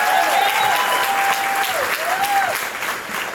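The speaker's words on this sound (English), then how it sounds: "Give her a round of applause." An audience at a Black Tech Week event in Cincinnati claps loudly and steadily throughout, with a voice briefly sounding over the sustained applause.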